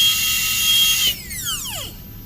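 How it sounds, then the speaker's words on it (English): High-pitched whine of a dental drill cutting a Class II amalgam preparation, loud and steady for about a second, then spinning down with a falling glide and fading to a quieter hum. "just drill down"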